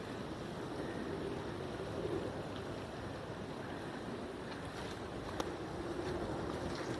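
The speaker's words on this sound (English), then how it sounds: "Hear the wind here." Wind blowing outdoors in a cemetery near an airport, a steady broadband rush with low rumble throughout, continuous and moderately loud, with no talk.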